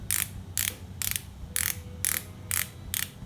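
A ratchet lace tightener on a Santic cycling shoe clicks in seven evenly spaced bursts of sharp, close clicking, each short and crisp with quiet gaps between, heard alone without talk.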